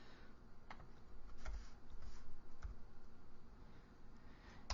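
Typing on a computer keyboard, a quiet run of soft clicking keystrokes at an uneven pace with a few louder taps, close and alone.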